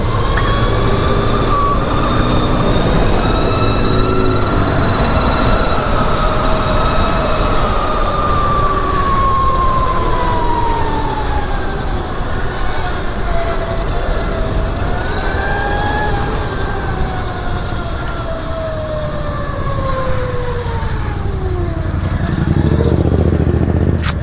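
Mini electric supermoto motorcycle, a home-built bike, riding along with a rising and falling electric motor whine and steady wind and road roar throughout, loud and close, no talk.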